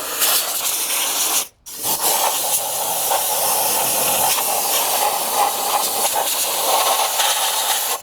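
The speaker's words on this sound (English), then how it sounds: "Definitely use compressed air." A loud, steady hiss of compressed air blowing continuously while detailing a Shelby GT350R with its wheels off, cutting out briefly for a moment before resuming just as strong.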